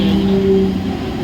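Mumbai local train pulling into a platform at a railway station, a steady low rumble with a sustained tonal hum that fades after a moment, heard alone without voices.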